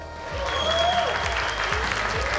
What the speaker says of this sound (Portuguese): uma salva de palmas para Rodrigo Terron